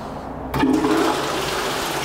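A urinal flushes in a public toilet, a sudden rush of water starting about half a second in and settling into a steady hiss of running water that continues to the end, with no talking.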